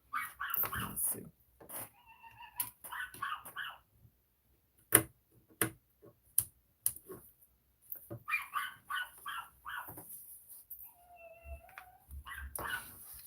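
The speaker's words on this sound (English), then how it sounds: "I don't know why she be just barking so much." Queenie, a small house dog, barks and howls in repeated bursts indoors, loud and close, with short whimpering yelps between, while a person talks intermittently over the noise.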